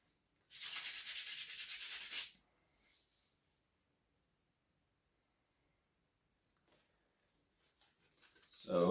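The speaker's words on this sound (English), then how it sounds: "We're probably going to end up going over this entire handle with the sandpaper just real quick" Sandpaper rubs over a knife handle in one short, close, scratchy burst, followed by quiet with faint handling noises and a louder bump at the end.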